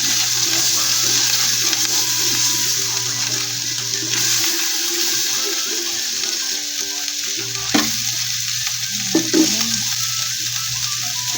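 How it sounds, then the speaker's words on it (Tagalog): Onion and garlic sauté in butter in a pan for pork igado, a loud continuous sizzle with a low steady hum and occasional utensil knocks against the pan. "dito din tayo mag-isa ng sibuyas at bawang"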